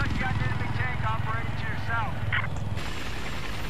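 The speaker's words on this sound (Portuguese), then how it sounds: "Ih, meu irmão, pilotando helicóptero, hein?" Helicopter in flight in Battlefield 4 on the Siege of Shanghai map, a steady rotor drone under excited talk and in-game radio chatter, fairly close and constant.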